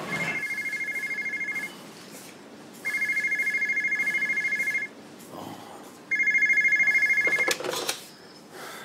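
A telephone rings in bursts of electronic trilling, three loud ring cycles separated by short pauses, with a soft click near the end and no talking over it.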